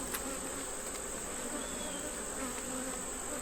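Honey bees buzz steadily inside a homemade wooden hive box holding a strong colony troubled by beetles, a dense, even drone with a few bees passing close.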